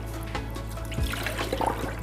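Water runs steadily from a tap as food is rinsed before cooking asanka delight, a continuous close splashing trickle with small bubbling changes, no voices.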